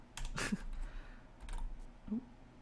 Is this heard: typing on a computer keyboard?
yes